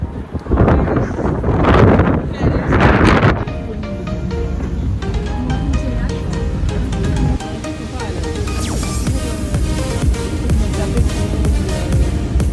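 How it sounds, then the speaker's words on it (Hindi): Loud, gusty wind roars and buffets the microphone in Paris, with a steady rushing background and muffled voices underneath. "यहाँ पे बहुत तेज़ हवा है"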